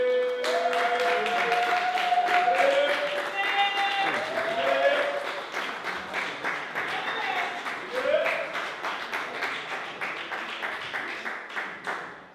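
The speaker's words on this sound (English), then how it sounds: "Can we give him a round of applause?" A crowd at a Black community closing event applauds an elder being invited on stage, rhythmic clapping throughout while a voice sings or calls out with sustained tones over it, the clapping thinning toward the end.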